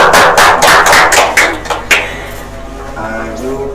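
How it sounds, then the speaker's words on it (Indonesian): A classroom of primary-school children claps together in a loud burst of sharp, rapid hand claps that fades after about two seconds, leaving room noise and chatter. "Tepuk tangan."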